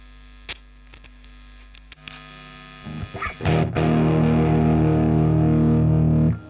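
Electric guitar played through a fuzz pedal into a Plexi amp set with modest gain: a few muted picks and scrapes, then a loud, sustained distorted chord ringing steadily over amp hum to the end.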